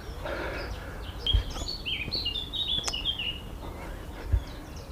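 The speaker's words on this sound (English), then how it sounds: "I'll just stop for a minute here and listen to those birds singing" Several birds sing and chirp in bright, warbling phrases over a soft outdoor background on a footpath at Marks Tey, with a couple of low thumps.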